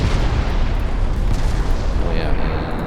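Battleship gunfire from 18-inch guns in Ultimate Admiral Dreadnoughts, a Danish ship under fire in a 1942 Italy campaign: a loud, continuous deep rumble of booms, with someone talking over it.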